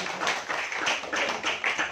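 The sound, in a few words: congregation clapping loudly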